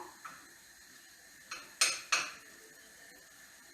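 Blended onions tossed into a cooking pot for Algerian chorba: a couple of sharp metallic clanks and a quick burst of sizzle and clatter in the middle, with faint kitchen noise before and after and no talking.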